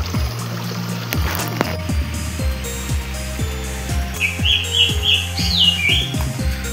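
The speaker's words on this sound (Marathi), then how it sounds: "पाखरांचा शिवशिवाट." Birds chirp and squawk near rice paddy fields, sharp calls and clicks over a busy rustling background, with a brief burst of high twittering toward the end.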